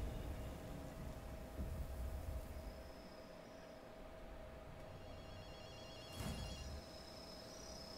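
A telephone rings in the video game Ghostwire Tokyo, a faint repeating bell tone over quiet game ambience with a brief louder burst near the end.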